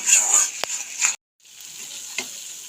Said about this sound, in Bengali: কাঁচা টমেটোর গন্ধ চলে যাওয়া অবধি ভালোভাবে মশলাটা কষিয়ে নেব